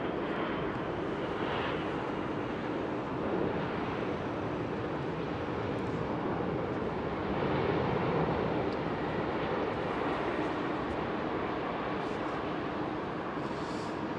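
A British Airways Boeing 787 going around at foggy Heathrow gives a steady, broad jet-engine roar that swells slightly midway, heard from a distance without voices.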